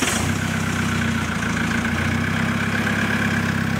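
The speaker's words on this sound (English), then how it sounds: "it sounds like a gurgly, droney four-cylinder diesel" Four-cylinder Cummins diesel idling in a Nissan Patrol, a steady gurgling drone with low rumbling pulses that holds evenly throughout, close and fairly loud with no talk.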